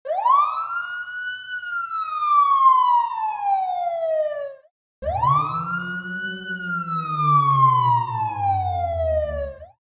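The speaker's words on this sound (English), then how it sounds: "siren sounds with lower frequencies added to the main sound" An emergency vehicle siren with added low bass sounds in two long, loud wailing sweeps, each rising then slowly falling, with a brief gap between them and a deep rumbling undertone on the second.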